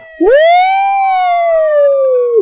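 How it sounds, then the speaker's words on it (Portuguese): A single loud siren sound effect swoops up and holds a long wailing electronic tone, close and clear, then cuts off abruptly. "Soe aí a sirene vermelha."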